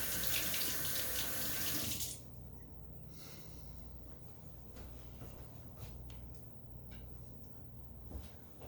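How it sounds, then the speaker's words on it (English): Kitchen faucet runs loudly into a sink while hands are rinsed, a bright hiss that cuts off abruptly after two seconds, leaving quiet room tone with faint clinks. "now I'm going to go over here and rinse my hands for a moment"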